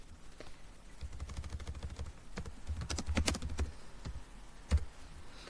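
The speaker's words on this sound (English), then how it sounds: "I would be able to type my response directly in" Someone types a response on a computer keyboard in quick, irregular bursts of close, crisp key taps, with short pauses and one louder clack near the end.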